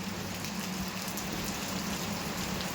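Heavy rain pours down during a trek at Devirammana hill in Chikmagalur, a dense, steady hiss of drops hitting surfaces that fills the whole stretch evenly and loudly, with no voices.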